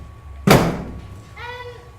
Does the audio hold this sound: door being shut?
yes